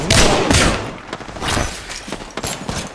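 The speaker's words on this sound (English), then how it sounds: "I'm getting shot in the fucking back, bro" Rapid gunfire in the battle royale game Apex Legends erupts in loud, dense bursts, with overlapping shots and impacts crowding a short, hectic exchange of fire.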